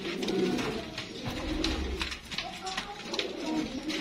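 A Sialkoti pearl pigeon coos in low, rolling, repeated calls, heard close amid a steady background hum.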